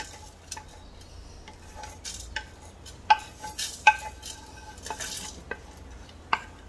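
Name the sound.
dry roasting cumin seeds and black pepper in a pan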